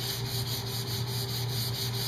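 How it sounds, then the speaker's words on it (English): Wood being lightly sanded by hand with 320 grit sandpaper, a soft steady rhythmic rubbing of quick back-and-forth strokes, close and quiet with no talk. "So I'm going to take the 320 grit again. Just going to go over this very lightly"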